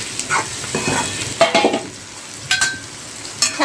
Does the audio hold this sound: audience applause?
no